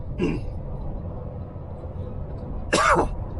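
Two short, sharp coughs, one near the start and another a couple of seconds later, with quiet room noise between them.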